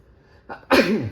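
One close, sharp sneeze with a brief breath just before it, heard during work on slotted brake rotors for a Ford Focus XR5/ST225, with no talking over it.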